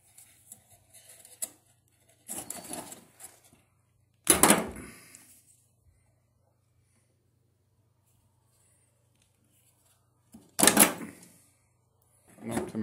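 Electrical wire having its insulation stripped back by hand while a light fixture is converted, giving a few separate short scraping and snipping bursts, close and fairly crisp, with quiet pauses between them.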